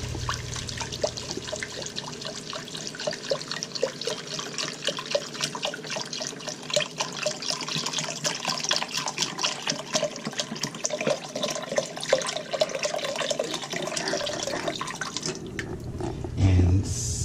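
Chicken stock poured from a 32-ounce container into a soup pot for Zuppa Toscana, a steady liquid splashing and trickling that runs for most of the clip at moderate loudness, with some kitchen clatter at the end.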